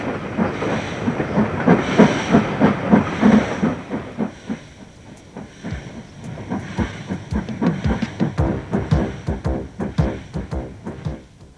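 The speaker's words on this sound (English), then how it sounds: "Locals wave goodbye to what seems like the last train on the line." A departing train hauled with a locomotive at each end rumbles past loudly with hissing and rhythmic clickety-clack of wheels over rail joints, steady and close throughout.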